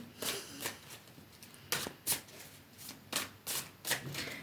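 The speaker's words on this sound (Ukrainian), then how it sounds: "Я тасую карти." Tarot cards being shuffled in several quick riffling bursts with short pauses between, close and crisp in a quiet room.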